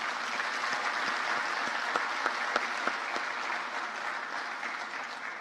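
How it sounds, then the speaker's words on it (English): Sustained crowd applause at an ASEAN business and investment summit welcoming Timor-Leste's prime minister, a dense even wash of many hands clapping with a few sharper nearby claps, fading slightly at the end. "Can you have a clap for him?"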